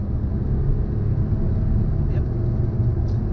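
A 2013 Jaguar XJ accelerates with a steady, deep engine rumble heard from inside the cabin, loud and continuous with no speech over it.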